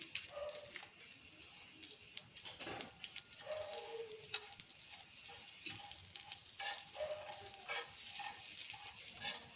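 Coriander seeds and bay leaves roasting in a little oil in a pan, giving a continuous quiet crackling sizzle with occasional soft stirring scrapes and no talking.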